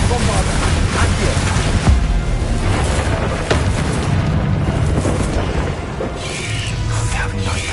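Explosive Bombarda spells going off in the video game Hogwarts Legacy, dense booming blasts and bursts layered over continuous game effects, with a few louder thumps standing out near the start and middle.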